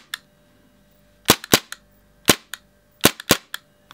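A Marushin PPK/S model pistol with a wooden grip, dry-fired in blank-fire mode with its magazine: loud, sharp cap-like snaps, mostly in quick pairs and triples, each cutting off crisply into silence.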